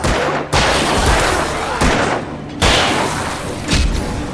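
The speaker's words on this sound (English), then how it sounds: "Come on, shoot him." Gunfire in the video game Alan Wake comes as several loud, heavy booming shots spaced about a second apart. Each shot leaves a long noisy tail that blends into a dense, constant wash of sound.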